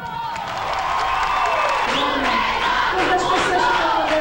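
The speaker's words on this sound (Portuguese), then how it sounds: "E no final, depois da experiência inédita, aplauso." An audience at a live event breaks into sustained applause mixed with cheering and whoops, a dense, steady crowd roar that holds at full strength throughout.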